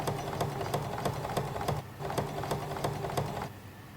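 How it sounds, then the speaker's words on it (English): A sewing machine stitching a fly front zip, running in short bursts of rapid rhythmic needle clatter, close and fairly quiet, with a brief pause between runs. "drop the presser foot again and continue sewing to the top of the tape."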